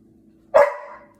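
A dog lets out one sharp, loud bark close by that rings briefly before fading, against an otherwise quiet room with a faint low hum.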